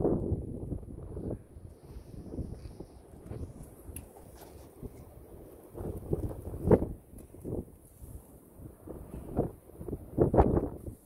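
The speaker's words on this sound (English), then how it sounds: "It is going to be windy" Gusty wind buffets the microphone in uneven low rumbling bursts, rising and falling with stronger blasts toward the end.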